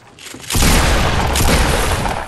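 Gunfire lands a headshot in Fortnite: a loud booming shot erupts suddenly and rolls into a sustained, noisy blast.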